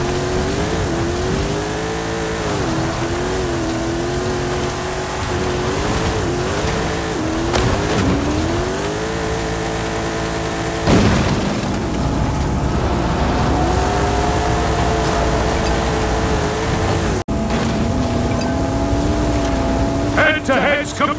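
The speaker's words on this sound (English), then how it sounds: "I'll use the RJ Anderson Pro 2 truck in the final showdown here." Engine of the RJ Anderson Pro 2 truck in a racing video game, revving and shifting continuously with rising and falling pitch, loud and steady throughout, with a brief cut near the end.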